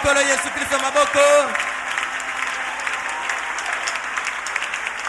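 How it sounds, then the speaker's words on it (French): Church congregation applauding and acclaiming, dense sustained clapping with cheering voices early on, continuing at a steady level to the end. "On peut acclamer le Seigneur Jésus très fort."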